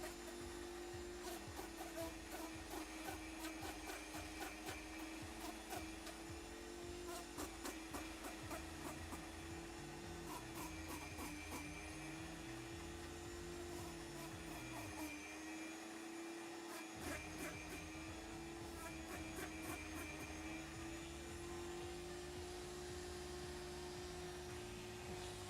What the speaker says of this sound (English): Just kind of flitting between the knife and the Dremel.